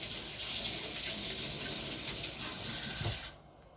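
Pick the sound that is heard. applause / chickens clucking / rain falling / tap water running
tap water running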